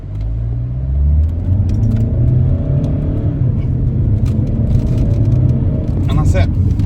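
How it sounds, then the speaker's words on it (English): A 2011 Vauxhall Insignia 2.0 CDTI 160 diesel automatic pulling away and accelerating, with a low engine drone rising in pitch through a gear change under steady road rumble. "we're going to accelerate up to 40"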